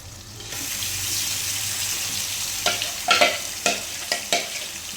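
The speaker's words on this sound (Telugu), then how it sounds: "మ్యాగ్నేట్ చేసి పెట్టిన చికెన్ ఆయిల్ వేసి పెట్టాను ప్యాన్లో ఇదైతే ఇందులో వేసేద్దాము" Steady hiss of marinated chicken frying in oil in a pan, with a few sharp scraping stirs toward the end; no talking.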